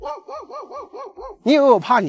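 A dog at a remote mountain homestead in a Guizhou forest barks six times in an even rhythm, then someone shouts over it loudly.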